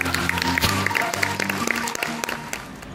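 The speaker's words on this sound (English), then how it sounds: "please give him a big round of applause." A crowd claps steadily for a few seconds, a dense wash of applause with a few louder individual claps.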